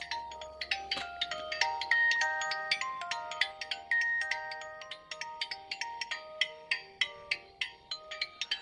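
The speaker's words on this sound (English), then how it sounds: "Yeah, that's my phone ring." A mobile phone ringtone playing a bright melodic chime pattern of repeated plucked notes, steady and clear throughout with no talking over it.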